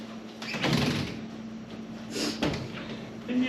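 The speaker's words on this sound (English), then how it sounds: "Open the doors." Cabinet doors of a fold-down Murphy bed in a resort room swing open, giving soft wooden creaks and bumps over a steady background hum, with no speech.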